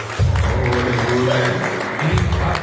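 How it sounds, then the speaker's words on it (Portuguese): A church congregation applauds at an evening worship service, steady clapping filling the space with a low hum and music underneath. "Uma salva de palmas para o Senhor."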